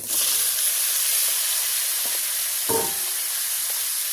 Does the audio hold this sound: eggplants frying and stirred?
yes